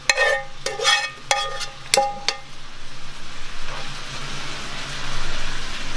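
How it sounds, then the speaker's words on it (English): Sauteed scallops tipped into a strainer, several sharp metallic clanks and scrapes up front, then a soft steady hiss of draining liquid. "I'm just going to take these scallops that I sauteed and I'm just going to strain them out"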